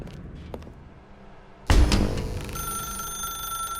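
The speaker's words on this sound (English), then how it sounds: "Now pick up the phone." In The Stanley Parable: Ultra Deluxe, a telephone bell starts suddenly after a quiet stretch and keeps ringing loud and steady to the end.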